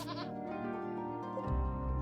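A goat in RimWorld gives a short, wavering bleat over a background of steady tonal music, fairly faint and brief.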